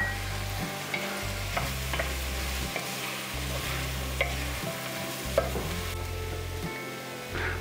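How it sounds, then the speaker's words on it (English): All-purpose white flour roux stirred in a pot for chicken and wild rice soup, a steady sizzle with repeated scraping strokes of the spoon, close and alone without speech. "we're going to let that roux up a little bit"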